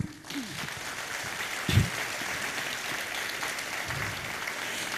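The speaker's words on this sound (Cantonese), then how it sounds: "首先，我哋以熱烈嘅掌聲歡迎今晚節目嘅主持" An audience at an evening meditation talk and program at a Hong Kong meditation centre applauds to welcome the host, with steady, moderate clapping throughout, a brief thump and a few voices in the background.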